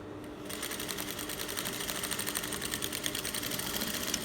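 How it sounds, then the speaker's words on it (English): A sewing machine stitches steadily back along the hem of a buba garment, a fast continuous whirring rattle that starts after a brief pause and keeps running close and even. "So I'll lift up my presser foot also and sew back to the hem line."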